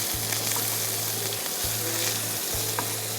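Chopped onions frying in oil, a steady close hiss and crackle that runs without a break, with a low repeating hum pulsing underneath and no voices.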